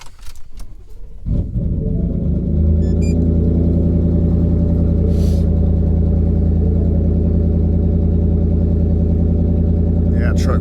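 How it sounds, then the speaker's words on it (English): A 2019 Ford F-150 twin-turbo truck engine starts after a few clicks and settles into a loud, steady, deep idle that holds unchanged to the end, parked outdoors on a windy, cold day. "Yeah, truck fires right up"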